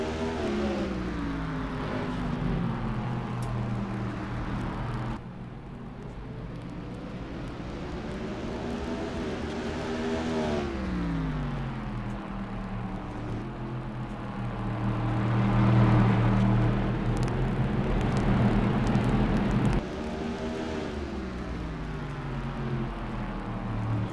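Race cars lapping Martinsville in a racing video game, a continuous layered engine drone with pitch sweeps as cars rev and slow through the corners, loud and steady with no talk.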